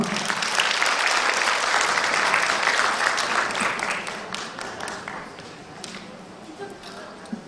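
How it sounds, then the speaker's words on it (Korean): Congratulatory applause from a seated audience at a national kindness award ceremony, dense and steady at first, then thinning into scattered claps, with faint footsteps and a voice near the end. "축하의 박수 부탁드리겠습니다"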